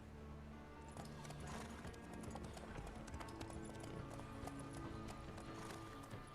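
Hooves of Roach, the horse in The Witcher 3, in a steady clip-clop at a trot or canter, with rhythmic, fairly close hoofbeats over a game soundscape.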